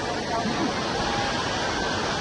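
A cold monsoon river near Kalu Waterfall in Malshej Ghat flows in a dense, steady rushing wash close by, with faint voices mixed in.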